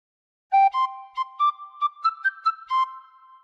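A tin whistle plays a short melody alone, Pop Goes the Weasel, bright piping notes stepping up and down in an even rhythm, clear and close.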